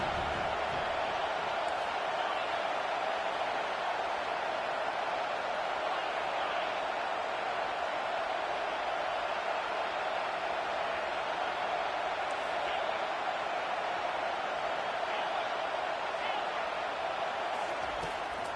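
A home crowd at a football game roars steadily as the defense tries to get off the field on third down, a continuous dense wash of cheering with no pause.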